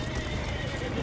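Horse galloping and neighing in the video game For Honor, a faint, dense clatter of hooves under a steady wash of background noise over about a second.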